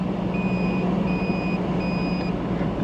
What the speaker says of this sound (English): I'm sure you guys heard that beep, beep, beep while I was talking on the radio.